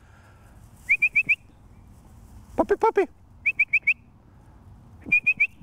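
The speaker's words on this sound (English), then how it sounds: "You notice I'm whistling. I like to whistle because that's going to carry throughout their life." Someone whistles to train a young quail dog puppy outdoors, giving bursts of four short, sharp rising whistle notes, repeated three times and loud and close. A spoken call comes in between the bursts.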